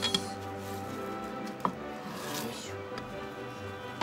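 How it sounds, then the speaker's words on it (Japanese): A knife chops shiso leaves on a cutting board, soft scraping taps with one or two sharper knocks, over a low background hum. "それでは仕上げのトッピング大葉を切ってきます。"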